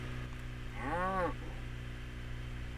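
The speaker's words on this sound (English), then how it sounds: "Hi, cows." Cows in the game Trail of the Twister give a single clear moo, rising and falling for about half a second over a steady low background hum.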